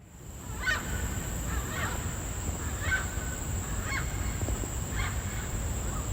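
Distant white-bellied sea eagles give a series of about six evenly spaced yelping calls over a steady hiss and low rumble, at a quarry at Little Guilin, Singapore.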